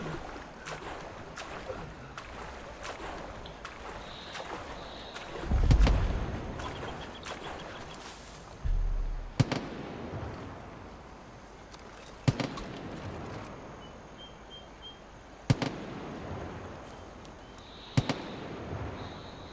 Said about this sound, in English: There's some gunfire going on over here.